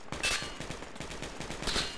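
Rapid bursts of gunfire in the military shooter game Project Reality, repeated shots crackling close and loud across the whole moment with no pause.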